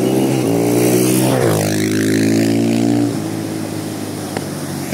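Motorcycle engines run loud and close during a flood in a village, with a steady harmonic drone whose pitch falls and rises as the revs shift, then drops to a lower, calmer idle near the end.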